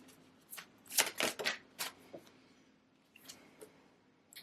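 Tarot cards are shuffled and drawn by hand: a burst of riffling, papery flicks and slaps, loudest early on and then thinning into a few softer card flips, close and without speech.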